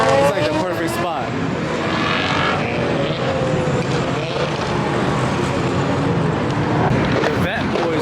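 Cars rev their engines against each other in a rev battle at a car event in Gatlinburg, with engine roars rising and falling in the distance, muffled by heavy wind noise on the microphone.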